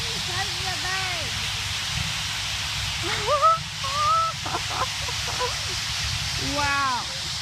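A large flock of birds crowds a boardwalk in Louisiana, squawking and chattering in overlapping calls over a steady rushing background, with people talking close by.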